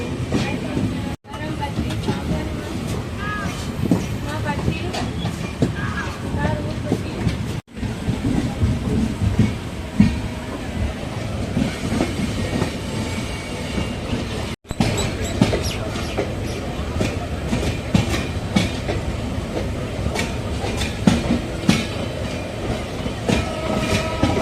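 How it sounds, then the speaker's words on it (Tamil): A Villupuram–Karaikudi passenger train rolls into Trichy junction, a loud continuous rumble of wheels and carriages with rattling and clanking, heard close from aboard a moving train, with voices in the background. "விழுப்புரம் காரைக்குடி பேசஞ்சர் ட்ரெயினுங்க"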